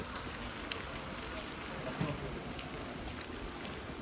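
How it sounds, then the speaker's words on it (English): Heavy rain during floods in Slovenia, a steady dense hiss of rainfall and running water close by, continuous throughout with a brief louder splash midway and no clear speech. "You know, it's raining here"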